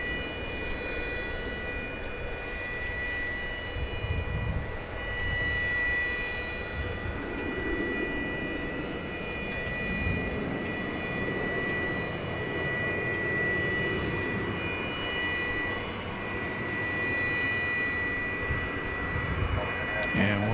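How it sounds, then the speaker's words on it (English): American Airlines flight 2181, a jet on ILS approach, arrives at DFW Airport as a continuous engine drone with a steady whine, moderately loud and sustained throughout, with a few faint clicks. "There it is, coming out of the mist. American 2181, ILS 1 away."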